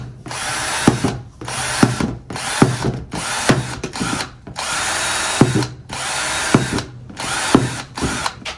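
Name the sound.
power drill drilling small holes in worm farm container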